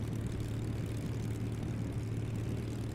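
A propeller engine of a Mustang aircraft drones steadily in a flight simulator game, a continuous low, even hum with no breaks or talking.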